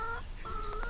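Backyard chickens cluck and murmur close by in a short, steady burst of fowl chatter with no talking over it.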